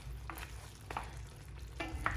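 Curry goat with small potatoes gets stirred in a pot, three or four soft scraping strokes spaced about a second apart over a low, quiet simmer, with no one talking.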